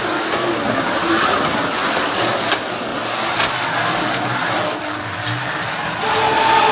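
A Scalextric slot car running as a pace car circles the track with a continuous whirring motor hum, steady and fairly loud, its pitch shifting slightly as it goes round.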